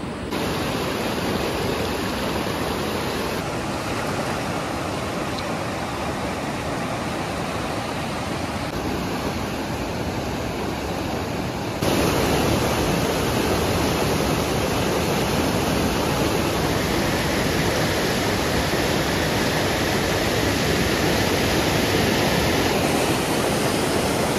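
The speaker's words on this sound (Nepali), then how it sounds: "खोला चाहिँ ठुलै छ यो, एकदमै ठुलो छ खोला।" Loud, constant roar of the large rushing Rawa Khola river, a dense wash of white noise that swells slightly louder partway through.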